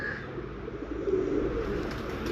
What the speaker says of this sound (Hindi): ये जी उस्ताद शाहिद खान साहब का भतीजा कबूतर, मेन ब्रीडर कबूतर है